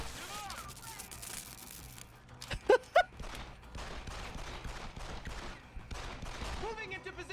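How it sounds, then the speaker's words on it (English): Enemy gunfire in the stealth-action game Deus Ex: Human Revolution crackles in the background, with a couple of louder sharp shots standing out amid continuous noise and speech. "Heels on the ground as they shoot at you"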